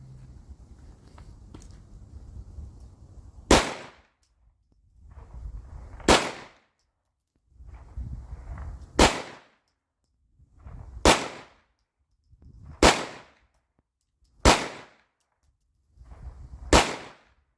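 Springfield SA-35 Hi-Power pistol fired outdoors at a testing session, seven sharp, loud single shots spaced a couple of seconds apart with low rustling between them.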